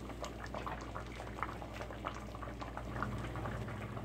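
Fig, rhubarb and lemon preserves simmering in a pot at a steady bubble, a quiet, dense stream of soft pops and gurgles over a low hum, close but faint, with no voices.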